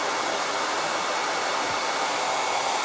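A hair dryer blows steadily and loudly to dry chalk paste on paper leaf cutouts, a continuous broadband rush that fills the whole stretch with no pauses.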